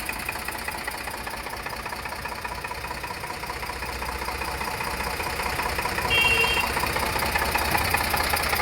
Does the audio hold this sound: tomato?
no